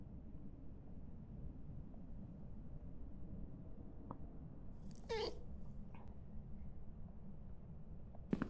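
A cat meows once in the Phasmophobia video game, a short mid-distance cry over a steady low rumbling background, followed by a fainter second call.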